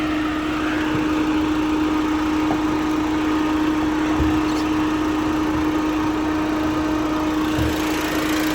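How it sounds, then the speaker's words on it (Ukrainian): A steady mechanical whir of a 2012 Renault Megane 1.5 dCi radiator fan, running because the air conditioning is on, alongside a constant droning hum, even and unbroken throughout, with no voices. "Вентилятор працює, бо включений кондиціонер."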